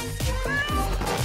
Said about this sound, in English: It's a cute little kitten who lives in a tree.